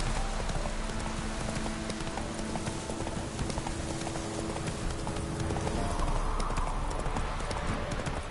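Geralt's horse Roach trotting in The Witcher 3, a dense, steady clip-clop of hooves over a continuous loud rumble of ground and ambient noise, close and unbroken throughout.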